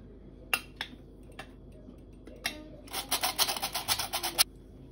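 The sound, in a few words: sifting flour and cocoa through a sieve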